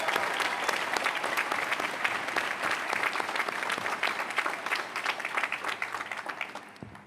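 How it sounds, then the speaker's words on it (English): Applause from a large audience at a university graduation ceremony, a thick, continuous roar of clapping that stays full and even, then thins out toward the end. "Let's give her another round of applause."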